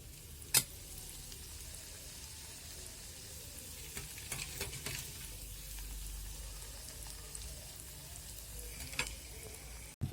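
Papad flowers fry in hot oil, a quiet, steady sizzle with a few sharp clinks and taps of a utensil scattered through it.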